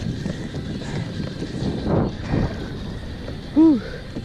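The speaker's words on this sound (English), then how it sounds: "I'll push the kayak to the shoreline." Small kayak being paddled toward shore through light ocean swells, with steady wind-blown water wash, soft paddle surges and a brief louder splash near the end, close to the microphone.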